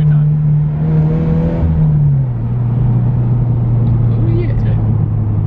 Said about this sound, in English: perfect rev match downshift every time.